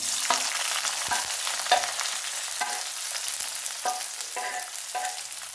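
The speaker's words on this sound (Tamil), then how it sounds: "நான் ஒரு பெரிய சைஸ் வெங்காயம் கட் பண்ணி வச்சுருக்கேன் இதை போட்டுக்கிறேன்" Sliced large onion frying in hot oil with fennel seeds for egg curry, a quiet, steady sizzle broken by repeated scraping stirs at a steady pace.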